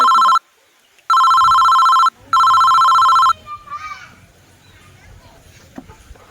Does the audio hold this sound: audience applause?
no